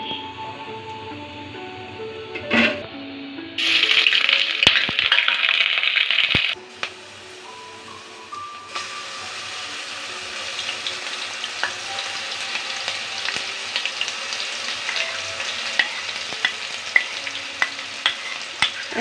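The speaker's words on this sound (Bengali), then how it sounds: "এতে দিয়ে দিচ্ছি দারচিনি তেজপাতা এলাচ ও বাটা মশলাগুলো" Cinnamon, bay leaf, cardamom and ground spice paste drop into hot oil for a prawn malai curry, bursting into a loud spitting sizzle that settles into steady crackling frying with scattered pops.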